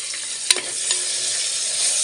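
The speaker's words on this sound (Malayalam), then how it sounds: "കുറച്ച് കരിവേപ്പില ഇട്ട് കൊടുക്കുന്നുണ്ട്." Curry leaves hit oil where onion is frying, bursting into a sharp crackle that settles into an even, bright sizzle.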